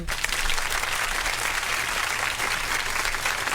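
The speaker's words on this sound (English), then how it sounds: "Let me give her a round of applause." Studio audience applause greets the third guest of an evening interview show, a dense, steady wash of many hands clapping that holds at even loudness for the full few seconds with no talk over it.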